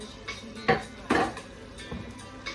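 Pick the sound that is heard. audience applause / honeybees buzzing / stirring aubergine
stirring aubergine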